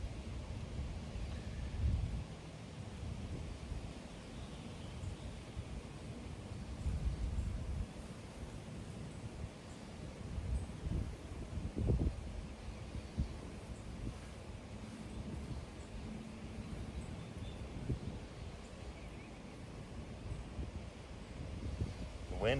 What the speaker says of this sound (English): The wind is doing a good job of blowing on it for me, isn't it?